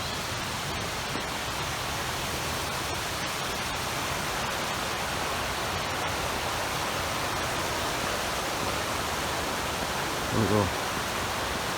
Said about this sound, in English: So it's just like a series of cascading waterfalls.